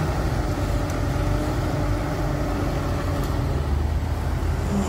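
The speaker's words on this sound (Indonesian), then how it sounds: "terdapat 2 unit truk yang mengangkut sampah-sampah di lokasi yang akan dijadikan embung ini" Garbage trucks and a wheel loader working at a reservoir construction site, a steady low engine rumble with faint mechanical noise, heard alone with no voices.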